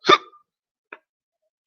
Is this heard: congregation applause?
no